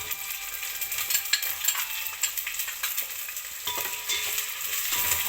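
Onions, green chillies, potato and carrot fry in a pan with a bright, crackling sizzle and scraping stirs, close and continuous, with no talk.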